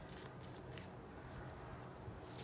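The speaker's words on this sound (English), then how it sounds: "Last shuffle." Tarot cards shuffled steadily by hand, a continuous close-up riffle and slide of card stock with brief brighter flurries, no talking.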